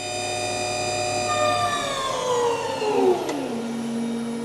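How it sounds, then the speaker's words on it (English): Converted 200 HP electric tractor motor revving up to full RPM, a smooth rising whine with tones sweeping upward and no engine rumble, steady and close. "And if I rev up, it's a really different kind of experience. Yeah. There is no vibration. And this is full RPM."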